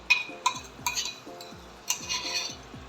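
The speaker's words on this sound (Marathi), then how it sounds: "अशी व्यवस्थित आपल्याला परतवून घ्यायची आहे ती तेलामध्ये सगळी एकत्र मिक्सअप झाले पाहिजे" Tomato paste being stirred into hot oil in a cooking pan, heard as a few distinct metal spoon scrapes and clinks against the pan at an irregular rhythm, close and fairly quiet, with no talking.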